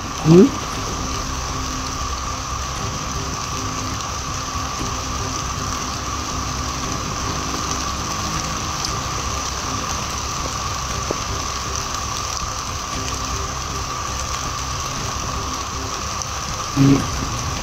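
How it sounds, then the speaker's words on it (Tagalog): A continuous hiss of rain falling steadily on surfaces, even and unbroken, with a couple of brief knocks near the start and end. "Nga, ulan."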